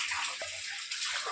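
Water runs steadily from a household tap, a continuous splashing gush with a brief gurgle partway through, close and alone without speech.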